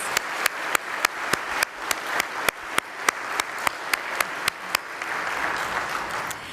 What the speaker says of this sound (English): Let's give the students and these educators one more round of applause.